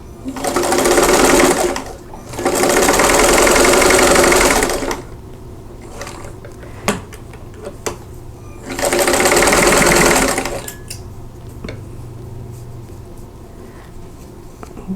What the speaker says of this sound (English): Let's sew this one.